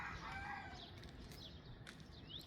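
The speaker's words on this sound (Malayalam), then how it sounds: "കോഴികളൊക്കെ കരയുന്നു," Chickens crow and cluck outdoors at a villa in Jeddah, Saudi Arabia, around eight in the morning, with a rooster's crow rising over scattered clucks and other bird calls against steady background noise.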